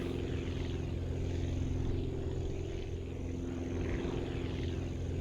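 A propeller aircraft in the game Aviassembly powers up for takeoff on a full runway, producing a steady, loud engine drone that holds unbroken throughout.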